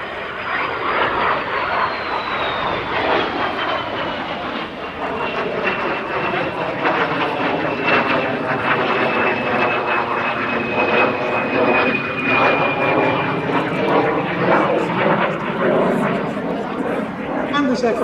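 A de Havilland DH 100 Vampire jet performing a flying display roars loudly and continuously overhead, its whine sliding in pitch as it passes, with a commentator talking over it.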